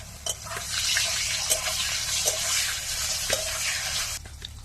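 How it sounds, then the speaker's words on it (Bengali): Sliced pointed gourd (kankrol) fries in hot oil, a steady broad sizzle with a few sharp stirring clinks, close and continuous before tapering off at the end. "কাঁকরোল ভাজা হয়ে গেল।"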